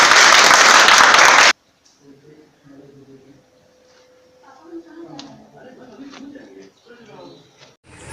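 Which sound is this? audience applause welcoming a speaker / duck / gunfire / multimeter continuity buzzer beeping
audience applause welcoming a speaker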